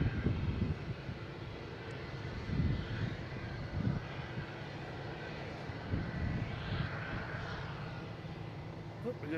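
A JetBlue Airbus A220 takes off at Boston Logan, its jet engines a low, sustained rumble at moderate distance, with a few louder low swells and a voice talking over part of it.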